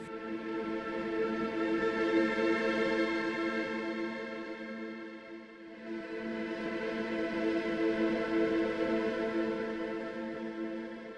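A sustained, swirling atmospheric string texture from the Vortex layer of Fracture Sounds' Trails Kontakt library, with chorus-like shimmer and distortion, swelling in two slow waves at moderate level without any voices.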